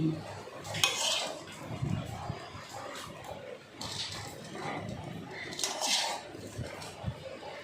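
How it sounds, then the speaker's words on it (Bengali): Spices are stirred into khichuri of two kinds of dal in a pot, with repeated clinks and scrapes of a metal spoon against the pot under nearby speech. "মশলাটা দিয়ে এবার ভালো করে নেড়ে দিচ্ছি"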